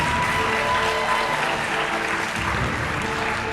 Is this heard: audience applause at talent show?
yes